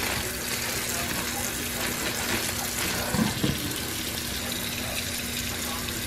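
Running water from a tap rinsing a tie-dyed scarf in a colander, a steady close rushing splash that continues throughout, with brief handling sounds midway.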